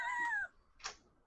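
A pet cat gives a single clear meow with a falling pitch, close and fairly loud, followed by a short rustle, in a quiet indoor room near a computer.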